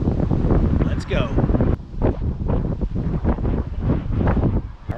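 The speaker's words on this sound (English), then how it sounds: "it is incredibly windy here" Strong wind on a mountain hike at Bender Mountain buffets the microphone with a loud, continuous roar that rises and falls in gusts throughout.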